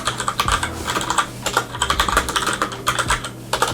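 Rapid typing on a mechanical keyboard fitted with Cherry brown switches, a dense run of close, crisp key clacks with uneven rhythm and no talking over it.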